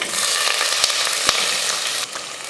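Onion and green chillies sauté in oil with whole spices like cinnamon, cardamom, cloves and bay leaf for chickpea biryani, a loud close sizzle with two sharp stirring clicks and a brief dip near the end.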